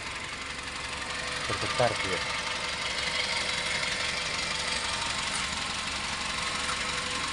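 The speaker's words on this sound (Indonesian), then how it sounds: "Jadi ini salah satu mesin bergetar ya, bergetar" A vibrating Suzuki Airio petrol engine idles nearby with a steady mid-pitched drone, while someone talks over it throughout.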